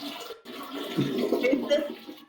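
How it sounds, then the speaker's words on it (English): A toilet flushing, a brief rushing gurgle of water swelling and then draining away, heard close and fairly loud over an online voice call. "Maybe you want to mute the toilet flushing sounds."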